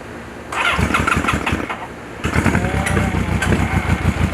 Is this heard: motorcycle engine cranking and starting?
yes